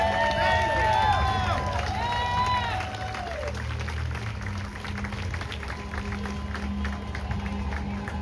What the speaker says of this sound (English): Let's have a big round of applause for the all volunteer team who put this together today.